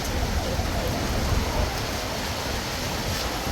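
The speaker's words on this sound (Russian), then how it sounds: "Грибной дождик." A light rain falls while the sun is shining outdoors in Omsk. It makes a steady, soft broadband hiss with a low rumble underneath, holding even throughout with no voices.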